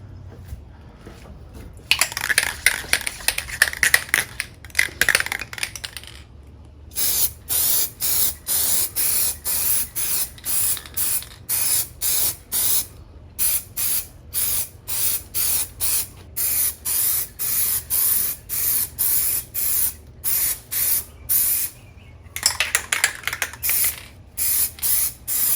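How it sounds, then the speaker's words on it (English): Repeated short bursts of aerosol spray hissing from a can of Plasti Dip rubber coating onto car emblems, a longer steady spray first, then many quick rhythmic pulses, close and loud. "now we'll start spraying"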